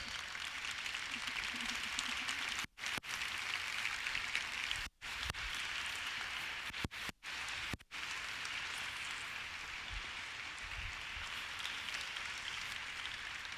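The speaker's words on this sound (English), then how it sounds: "please give them a warm applause for the amazing job that they are doing" Long, dense applause from a large audience at the Women4Climate 2018 gathering greets the mentees, a continuous rain-like patter at fairly low level with a few brief dropouts.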